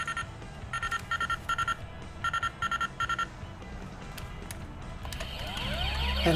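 Retro toy henshin transformation device playing its coding sound effect: a bright electronic beep pattern in quick bursts of four tones, repeated several times, then a rising sweeping chime, fairly loud over light background hiss.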